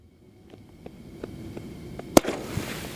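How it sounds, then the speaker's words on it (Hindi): A Mercury Pentas shot firework goes off during Diwali fireworks testing, firing a rapid series of sharp crackling pops that builds to one loud bang, followed by scattered fainter crackles. "और ये चल रहा हमारा मर्करी का पेंटास का शॉट।"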